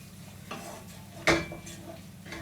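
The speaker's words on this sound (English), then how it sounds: "we're just going to just stir that in and cook that for about a minute" Utensil stirring ingredients in a pan while making smothered chicken, with a soft scrape or two against a low cooking hiss and one sharper clack near the middle, heard up close.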